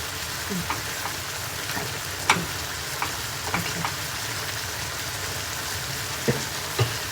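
Napa cabbage and egg stir-fry in a pan, giving a steady background sizzle broken by a few scattered taps and scrapes of stirring.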